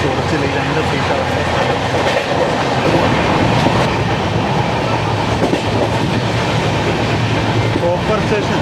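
The 20924 Gandhidham–Tirunelveli Humsafar Express runs on rails with a loud, continuous rumble and rhythmic clickety-clack of wheels over track joints that never lets up.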